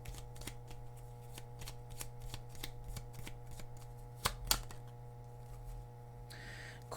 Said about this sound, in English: so let's get some more cards here